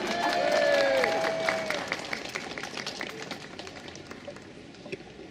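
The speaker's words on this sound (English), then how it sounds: "give her a big round of applause and encouragement" Outdoor crowd applause at a Bedroom Tax protest demonstration in Sheffield, starting fairly full and thinning to scattered claps, with a whistle or squeal near the start and some murmuring underneath.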